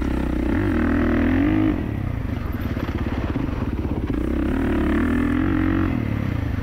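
A 2024 Kawasaki KX450 dirt bike on a break-in ride, its engine loud and close throughout, with rising and falling revs, a steady throttle stretch in the middle and a rattly, crackling edge.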